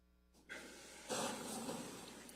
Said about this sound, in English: Can I have the white noise on